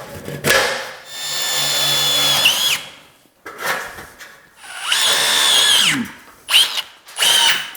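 A power drill drives screws into plasterboard fixed to metal studs in Knauf Performer stud walling: loud, close bursts of motor whine rise in pitch as each screw bites, several runs separated by short pauses, with no talk.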